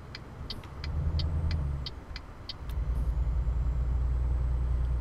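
Heavy truck engine in Euro Truck Simulator 2 labouring through a wide turn while hauling a trailer: a low, loud drone that dips briefly and then returns stronger. Regular high clicking ticks sound over it at the start.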